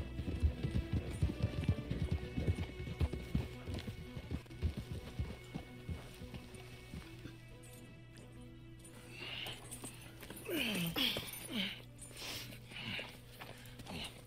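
Horse hooves clip-clop in Red Dead Redemption 2, a quick galloping rhythm that fades and slows toward the end, faint and in the background with a hint of talk.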